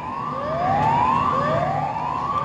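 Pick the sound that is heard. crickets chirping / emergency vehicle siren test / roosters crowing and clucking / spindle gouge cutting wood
emergency vehicle siren test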